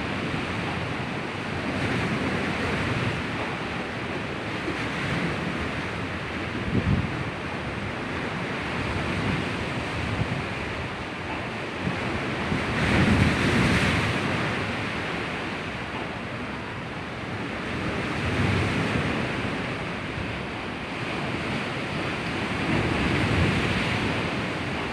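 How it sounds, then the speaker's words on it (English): A loud, continuous seaside roar where a strong wind buffets the microphone and waves wash ashore, swelling and easing in slow surges over a long stretch without any talking. "Lakas ng hangin."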